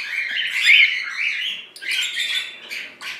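A female agapornis lovebird, a white-faced cinnamon, chirps and squawks in her nest with eggs, giving a continuous close, shrill chatter broken by short pauses.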